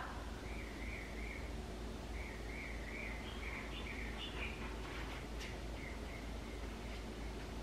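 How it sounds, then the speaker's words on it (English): A bird sings outdoors in a series of faint warbling chirps and trills that repeat over several seconds, set against a quiet hissing background with no talk. "Do you guys hear that bird?"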